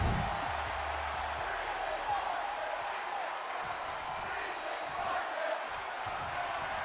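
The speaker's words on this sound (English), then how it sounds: "Crowd chanting Breeze is gorgeous." Steady crowd noise from a WWE 2K22 NXT 2.0 main-event wrestling match, a continuous broadband roar of chanting arena fans that holds at an even level throughout, with commentary voices talking over it.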